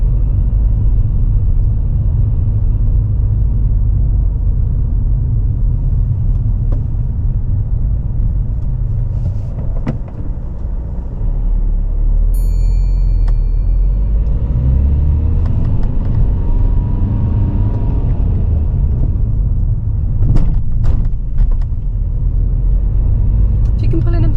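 Steady road noise from a car during a driving test on a suburban road with speed bumps and larger vehicles around, a constant low engine and tyre rumble throughout.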